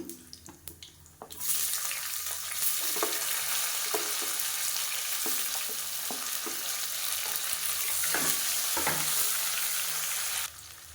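Sliced onions sizzle and crackle steadily in a hot pan for tomato rice, loud and continuous for several seconds, with occasional stirring clatter and no voices.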